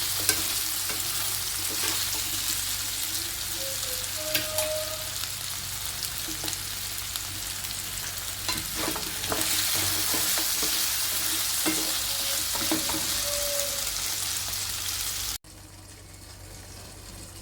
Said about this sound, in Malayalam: ഇനി ഇത് നമുക്ക് നന്നായിട്ടൊന്ന് ഇളക്കിയിട്ട് അടച്ച് വെച്ചൊന്ന് വേവിക്കാം.